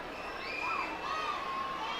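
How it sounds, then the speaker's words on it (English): Hometown crowd at a minor league baseball game, Binghamton Rumble Ponies against Reading Fightin Phils, producing a steady wash of cheering and shouting that holds loud and even throughout, with a few whistles and higher voices rising above it. "What a great hometown crowd right now."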